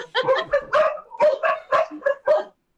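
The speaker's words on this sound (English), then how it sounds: "Oh God, they're all barking." Several dogs bark repeatedly in a quick irregular series of loud, close yips and barks indoors, alone without talk, ending abruptly.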